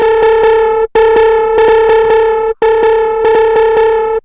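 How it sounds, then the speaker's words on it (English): A driven, distorted synth or sampled tone repeats in three phrases, gritty and loud, with short rhythmic stabs and brief gaps between. "Increase the drive a bit, the tone"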